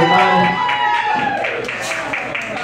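A crowd cheers and claps for a local singer at a New York performance, brief applause mixed with voices and a held vocal tone over the noise.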